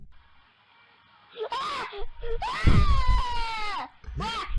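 Child screaming from the Screaming Blue Kid recording, several drawn-out wailing screams separated by brief gasps and pauses, loud and close with rising intensity.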